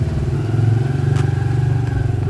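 A dirt bike engine runs steadily nearby with a continuous low, throbbing putter while being ridden. Its loud rhythmic chug persists throughout, with a faint click partway through.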